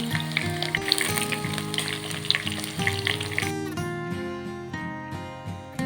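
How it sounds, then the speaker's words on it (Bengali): Fish frying in hot oil, a busy continuous sizzle and crackle close up, with a few scrapes and clinks of a utensil. "মাছের দুদিকই ভেজে নিতে হবে।"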